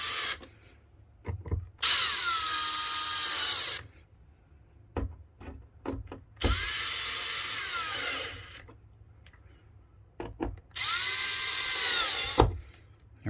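A power drill driving screws to mount RV switches, whining in three sustained bursts with rising and falling motor pitch, separated by quieter gaps with small clicks and handling knocks.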